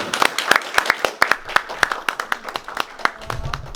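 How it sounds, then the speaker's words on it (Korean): Sparse, uneven clapping from a small lecture audience rings out in encouragement for a child, with distinct individual claps spaced irregularly and a faint murmur near the end. "우리 저 격려하는 의미에서 박수를 쳐주면 어떨까요?"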